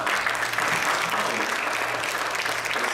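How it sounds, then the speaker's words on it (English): A church congregation claps together at a missions gathering in Vancouver, a dense, even burst of applause holding steady for several seconds with no voices over it. "Shall we give a clap to the Lord?"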